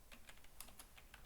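Quick, close typing on a computer keyboard during SharePoint 2016 column setup: about eight crisp key clicks in an uneven rhythm over a second, with no voices.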